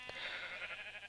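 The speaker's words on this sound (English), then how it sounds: "There's white sheep, there's blue sheep, and brown." A sheep bleats once in a video game, a short, faint bleat heard alone with no talk over it.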